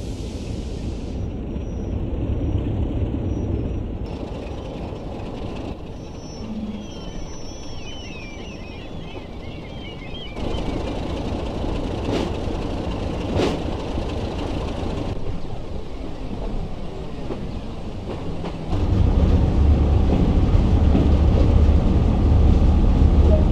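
A BR Class 33 locomotive starting to move on the West Somerset line in Train Sim World, its low rumble running steadily throughout and swelling noticeably louder and deeper near the end.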